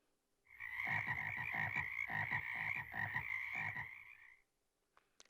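A frog croaks in a rapid series of pulsed, throaty calls, about a dozen bursts packed together over several seconds, close and loud with no voices.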